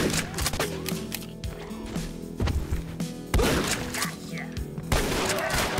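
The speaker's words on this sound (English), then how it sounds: "I'm definitely gonna be using my shotgun now" Shotgun blasts in the post-apocalyptic game Ashes 2063, four or five loud sharp reports spaced roughly a second apart over layered game sound, with some faint speech.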